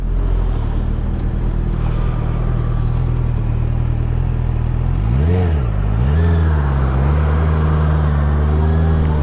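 A 2022 Honda CBR 650R BS6 motorcycle engine drones loudly at a steady pitch, then revs up and dips around the middle before climbing again as it accelerates through the gears, heard close and continuous.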